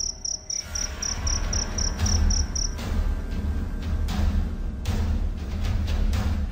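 A cricket chirps in a fast, evenly pulsed high trill that stops after a couple of seconds, followed by rustling and scattered thumps against a steady low background hum.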